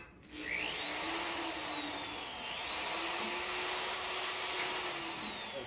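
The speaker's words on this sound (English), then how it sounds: "I use a really small drill bit as a pilot hole" A small power drill with a small bit whines steadily at close range while drilling a pilot hole in car door body metal, its pitch rising and shifting as it bites in, running continuously for several seconds without speech.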